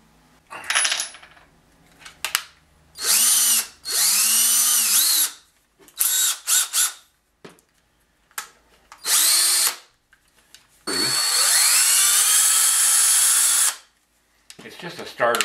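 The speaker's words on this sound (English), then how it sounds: "Show where I need to drill a hole." A power drill bores a starter hole in a wooden board for a horse-making project, with several short bursts of whining drilling separated by pauses and one longer sustained run near the end, close and loud.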